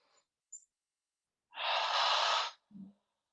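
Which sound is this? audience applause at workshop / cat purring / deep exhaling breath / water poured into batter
deep exhaling breath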